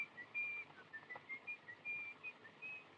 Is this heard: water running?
no